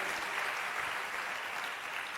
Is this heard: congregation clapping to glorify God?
yes